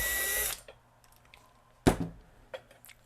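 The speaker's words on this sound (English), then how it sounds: "get this thing opened up, which is done by just simply removing these 2 screws right here" A power screwdriver whirs briefly to back out the two case screws on a Tesoro Super Traq LOBO metal detector, followed by a couple of close clunks and small handling knocks, with no talk.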